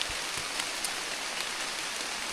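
Steady rain patters on a surface, a continuous hiss with occasional louder drops, close and even throughout.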